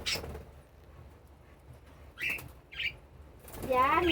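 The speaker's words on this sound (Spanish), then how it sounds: "voy a coger a Pajarito, que es el único que se deja coger" A small pet bird in a home aviary flaps its wings briefly while being picked up by hand, followed by a couple of soft chirps and a short burst of fluttering near the end.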